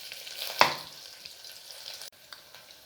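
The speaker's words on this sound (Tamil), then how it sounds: "நல்லா பொரியட்டும்." Chopped big onions and curry leaves sizzling in hot oil in a pan, a steady soft frying hiss with a brief sharp crackle near the start, no voices.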